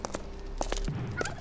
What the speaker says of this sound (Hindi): टर्की घूम रहा है।